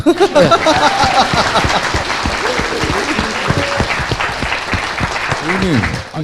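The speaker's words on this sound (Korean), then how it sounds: "박수!" Loud, close applause from a studio audience on a Korean political talk show, a dense steady clatter of many hands with voices speaking over it throughout.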